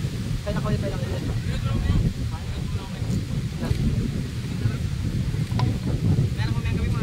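Strong wind gusts steadily outdoors, buffeting the microphone with a dense low rumble that sits under ongoing conversation.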